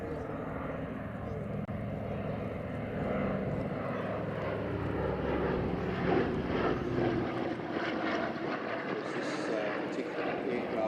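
Douglas C-47 Dakota in D-Day markings flying a display at an air festival, its piston-engine drone steady and moderately distant throughout, with a commentator talking over it on the public address.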